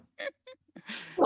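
A sneeze bursts out loud and close at the end, broad and harsh, after a few short vocal sounds and breaths amid a board game session among friends.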